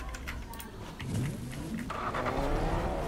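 Car engine and tyre noise from a vehicle in the Fortnite video game, played on PC, a steady motor drone that rises in the second half with brief clicks and game effects over it.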